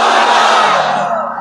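Large crowd at a Bengali religious waz gathering shouts takbir in unison, one loud, sustained massed call close and alone that trails off at the end.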